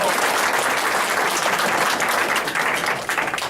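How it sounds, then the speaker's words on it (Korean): An audience claps for a guest being introduced at a school alumni homecoming day, loud, full applause from a crowd that stays strong, then thins and fades near the end. "박수 부탁드립니다"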